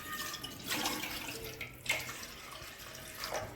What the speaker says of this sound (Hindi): तो अब अपन डालेंगे इसमें 1 मग का पानी।